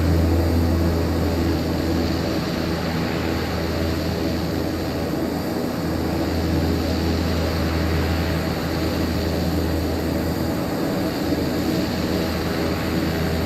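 A Beechcraft Starship turboprop taxiing in Microsoft Flight Simulator 2024, a steady, loud droning engine hum with a constant low rumble and high whine, no talking.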